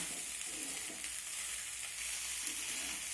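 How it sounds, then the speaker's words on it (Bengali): Noodles stirred and fried over a high gas flame, a constant bright sizzle with faint stirring scrapes, close up and even in level throughout. "এখন গ্যাসের ফ্লেমটাকে বাড়িয়ে মানে হাই ফ্লেমে রেখে আমি এটাকে নেড়ে চেড়ে রান্না করে নেব"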